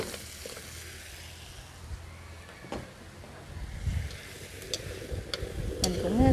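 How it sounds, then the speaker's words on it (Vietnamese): Pork hock stir-fries in a pot for Vietnamese crab noodle soup, giving a faint low sizzle with scattered clinks and scraping of a utensil that grow louder toward the end, close by. "mình cho giò heo vào luôn."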